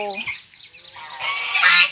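Muscovy ducks and ducklings giving short hoarse calls and honks, close by, with some chatter and rustling mixed in.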